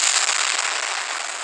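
A tanker truck explodes in the car crash video game CCV3, a dense hissing crackle of fire and debris, loud and continuous without a distinct boom.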